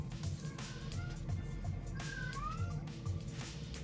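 A cat meows several times in rising, drawn-out calls, fairly faint against steady background noise.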